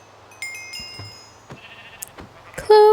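Sheep in a blocky Minecraft-style survival game farm, several short bleats scattered among clicks and small game effects, followed by a louder tonal sound at the end.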